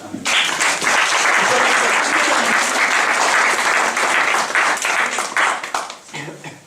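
A church congregation bursts into loud, sustained applause and cheering during a Christmas-season sermon, a dense wash of clapping that holds steady for several seconds before thinning out at the end.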